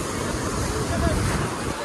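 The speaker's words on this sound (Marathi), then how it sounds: "लाट मोठी आलती" Steady roar of surf and wind from waves breaking on a Mumbai beach, filling the whole clip, with a brief swell of louder water near the middle.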